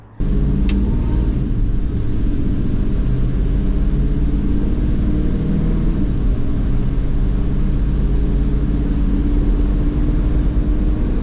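A 1981 Dodge D150 pickup on a test drive after upper and lower ball joint replacement, its engine and road rumble loud and steady from the cab throughout, with a brief sharp click near the start.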